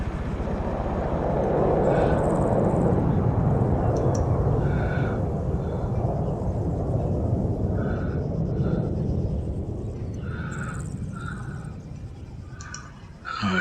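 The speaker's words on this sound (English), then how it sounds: "Here comes my chopper." A helicopter arrives in Arma 3, a broad rumbling rotor and engine roar that swells early and then fades slowly, with scattered clicks and short sounds over the top.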